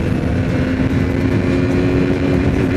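A 2021 KTM RC200 BS6 motorcycle running hard at high revs, its engine a loud, steady buzzing drone heard close up and alone, with wind noise mixed in.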